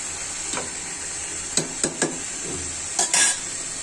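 Spice paste of ginger, blended garlic and garam masala fries in a pan under a steady sizzle, with a series of scraping stirs and utensil knocks against the pan, no voices.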